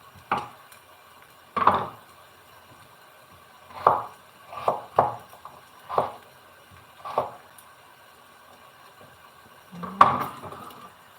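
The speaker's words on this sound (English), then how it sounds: "Just chopping potatoes and adding into this." A knife chops potatoes on a board in a home kitchen, producing about nine sharp, separate knocks at an irregular pace, close and clear against near silence.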